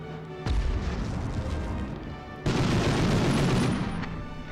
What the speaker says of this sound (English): I heard the grenade coming from somewhere